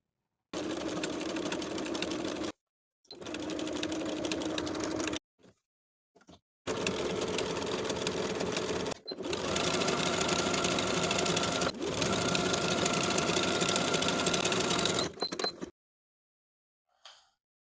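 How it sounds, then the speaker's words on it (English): A sewing machine sews a triple straight stitch onto stretch denim in several bursts of rapid whirring, stopping and starting with short pauses between runs, close and fairly loud. "using a triple straight stitch, I'll sew the design onto the fabric."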